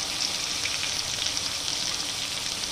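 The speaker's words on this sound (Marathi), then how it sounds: "छान आपण भाजून घेणार आहोत टोमॅटोसोबतच आपण मिरच्याही घालून घेणार आहोत" Tomatoes roasting with green chillies, ginger and coriander in a pan, giving a steady, close hiss of sizzling and frying that runs evenly throughout with no talking.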